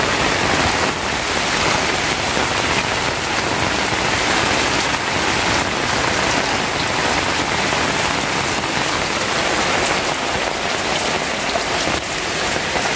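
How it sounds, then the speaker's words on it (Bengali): Heavy rain pours steadily on a tin hut roof and stacked bricks, a loud unbroken hiss and patter of drops close by with no voices. "এই বৃষ্টিটার কিন্তু খুব দরকার ছিল।"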